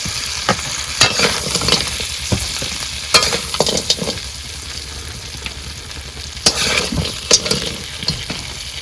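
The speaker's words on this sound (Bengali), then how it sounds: "এবার প্রথমে মাছটা ভেজে নেব" Fish frying in oil in a pan aboard a boat in the Sundarbans, giving a steady close sizzle with irregular scraping and stirring clatter, with no voices.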